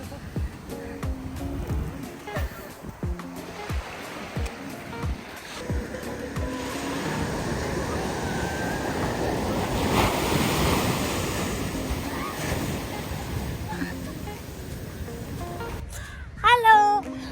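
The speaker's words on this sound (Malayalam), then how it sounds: "വെള്ളം പേടിയുള്ള ഞാൻ കടലിൽ കിടക്കുന്നു." Sea waves surge and wash in a broad roar, swelling to a peak midway, with wind buffeting the microphone and brief scattered voices and knocks at the start and end.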